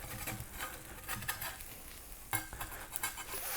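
A Mexican pan pizza topped with chorizo, Oaxaca cheese and bean sauce sizzles fresh from the oven, giving a quiet, close, crackly patter of spitting fat with occasional louder pops and no talking.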